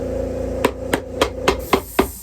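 Hammer blows ring out in a workshop, about seven sharp metallic strikes at a steady, even rhythm over a constant background hum, close by and with no talk.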